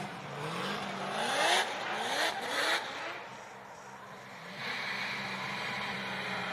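A Hyundai Genesis Coupe drift car on ARC Performance Fuel Suspension and Falcon tires revs hard at the start line of a Formula Drift event, with two loud rising pulls of the engine over a rough steady roar.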